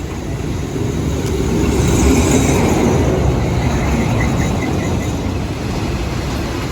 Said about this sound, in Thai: รถไฟจะมาแล้ว